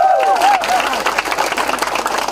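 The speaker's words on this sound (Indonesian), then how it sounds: "minta tepuk tangan" A crowd at a town-hall forum in Ambon breaks into dense applause, with a voice briefly rising over the noise at the start before the steady clapping carries on.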